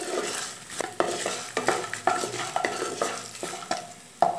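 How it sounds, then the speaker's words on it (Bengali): A spoon stirs turmeric through a frying mixture in a pan for lemon rice, with rhythmic scrapes every half second or so over a constant close sizzle, no talking. "হলুদ দিয়ে আবার নাড়াচাড়া করে দেব।"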